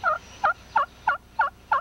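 A hunter's turkey call imitates a hen turkey with six soft, evenly spaced yelps in a steady rhythm, close and clean.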